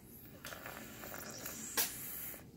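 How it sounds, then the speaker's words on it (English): A bullsnake feeding on a wet rat breathes out through its glottis, a faint, close hissing exhale with a short louder burst near the end against a quiet background. "you'll be able to hear him exhaling, and you can hear the air coming out through the glottis."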